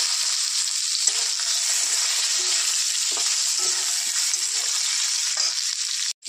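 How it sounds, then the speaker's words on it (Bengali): Pumpkin pieces sizzle loudly in hot oil tempered with five-spice and whole cumin for a Bengali fish-head and Malabar spinach dish, a steady close frying hiss that cuts off abruptly at the end. "এবার আমি কুমড়োটা দিয়ে দেবো।"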